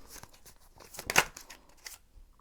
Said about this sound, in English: let's shuffle the cards